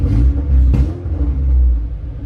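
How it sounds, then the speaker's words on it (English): A Honda CR-V with a swapped K24A2 engine idling close by, a loud low steady rumble with slight surges and no voices over it. "It idles, it sounds so much better."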